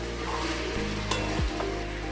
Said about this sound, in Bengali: এটাকে হাই হিটে ভালো মতো করে কষে নেব।